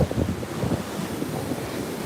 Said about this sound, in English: the waves are breaking in places they never break usually